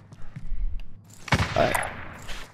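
Gunfire in the video game Call of Duty: Modern Warfare, a burst of shots around the middle of a short stretch, mid-loud against a low background rumble, with no voices over it.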